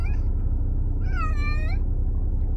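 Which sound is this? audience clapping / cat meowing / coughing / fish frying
cat meowing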